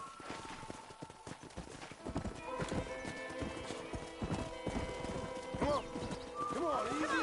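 Horse hooves from the video game Red Dead Redemption clip-clop in a steady walking rhythm, close and clear, while people talk over them.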